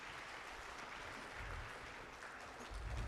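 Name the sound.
audience applause at a Bharatanatyam dance performance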